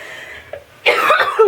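A woman coughs in a short, loud burst of several harsh coughs close up, following a brief quiet throat sound.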